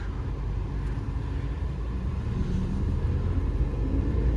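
A steady, low engine hum and road rumble heard from inside a moving 2023 Tata Nexon XE, constant and moderately loud with no talking.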